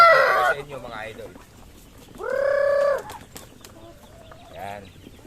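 Chickens with newly hatched chicks: close, clear bird calls and clucks in short bursts, including one sustained call, with quieter peeps between.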